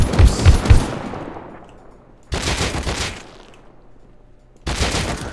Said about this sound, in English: He must be even more frustrated because he's shooting me and I'm not dying.